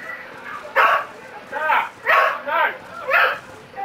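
A dog barks and yips in the background in several short bursts, some bunched close together, over the sound of game dialogue.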